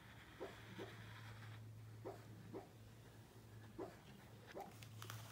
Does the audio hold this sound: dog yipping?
yes